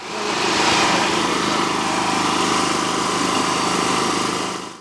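A portable power generator engine runs steadily and loud during a power outage, a dense continuous drone with no pauses from start to finish, and no voices over it.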